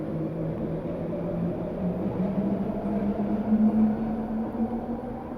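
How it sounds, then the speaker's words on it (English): A train rumbling past at a distance, a steady low drone with a rising hum that swells and fades over several seconds. "sorry, we still got the trains, unfortunately, Grace."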